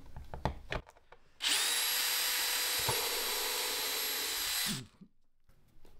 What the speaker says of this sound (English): I'm starting with a 13/64 bit.